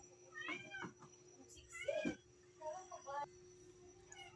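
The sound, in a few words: cat meowing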